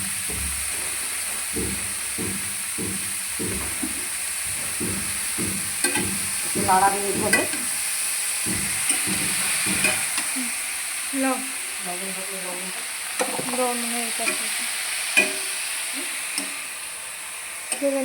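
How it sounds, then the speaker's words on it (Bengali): Khesari greens frying in hot oil, a loud continuous hiss and sizzle with rhythmic stirring and scraping knocks early on, followed by clattering pan sounds and faint voices in the background. "তেলটা গরম হয়ে গেছে এবার শাকটাকে দিয়ে দিলাম"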